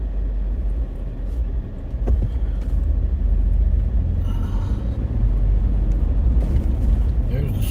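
Heavy trucks collecting rental scooters roll past on a city street, a loud continuous low rumble of engines and tyres that swells and holds, with faint voices in the background.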